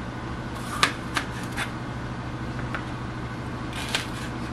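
A knife slices bell peppers into strips on a cutting board for a one-pot chicken and rice dish, a few sharp, separate chops over quiet background hum.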